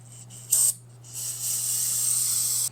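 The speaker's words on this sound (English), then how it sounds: "Go ahead and give this a little spray." Short bursts of hissing aerosol spray during work on a C4 automatic transmission, then a longer continuous spray, close and sharp over a low electrical hum.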